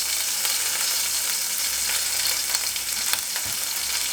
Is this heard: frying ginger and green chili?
yes